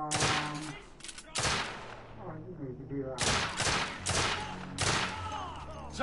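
Bursts of gunfire from The Order: 1886, a few loud broadband shots mixed with game sound effects and music, with voices talking throughout.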